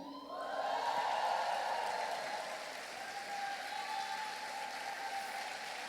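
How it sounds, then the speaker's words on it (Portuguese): An audience in a church conference hall stands and applauds, a loud, steady wash of clapping that swells quickly, then eases slightly and carries on. "eu queria que vocês levantassem e aplaudissem."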